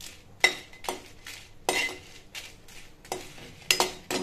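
Byadagi chillies dry-roast in a pan, heard as a run of scraping, rattling stirs with metal clinks against the pan, about six bursts in quick succession with quiet gaps between.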